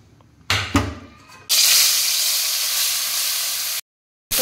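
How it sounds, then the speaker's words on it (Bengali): Fish coated in salt and turmeric goes into hot oil in a wok just used for frying spring onions, bursting into a loud continuous sizzle after a few short clatters, then cutting off abruptly. "পেঁয়াজ কালি ভাজা হয়ে গেছে, ওই কড়াইতেই আমি আবার মাছটা ভেজে নেব।"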